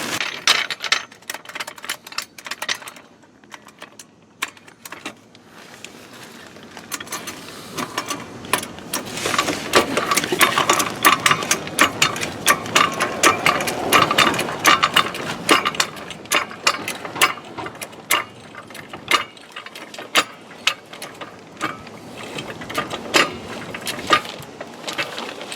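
A Husky 2-ton hydraulic trolley floor jack is pumped up by its handle, giving close, rhythmic metallic clicks and ratcheting clatter in steady repeated strokes, with no talking over it.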